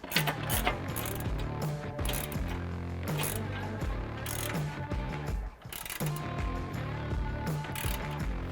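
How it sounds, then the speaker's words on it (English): Ratchet with a 17mm socket tightening nuts and washers onto carriage bolts of a Toyota Tacoma skid plate, rapid close clicking in repeated bursts with brief pauses. "I used the 17mm socket to tighten down that nut and washer on the top of all these carriage bolts"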